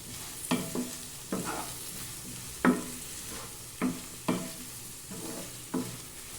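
Vegetables sautéing in a pan for green peas kurma, a soft continuous sizzle punctuated by about eight distinct spoon scrapes and knocks at irregular intervals, close up.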